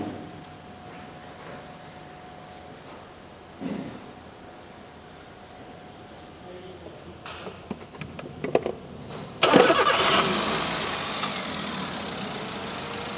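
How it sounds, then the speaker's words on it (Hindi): A small machine engine, air filter removed, runs at a steady idle with a low continuous drone, then grows louder and harsher near the end as it revs up. "इंजन को स्टार्ट कर दिया है और उसका एयर फिल्टर निकाल दिया है"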